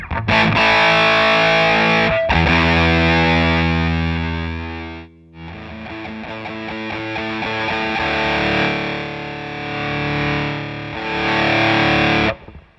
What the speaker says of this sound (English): Let me dial back the fuzz using the blend control on the channel itself.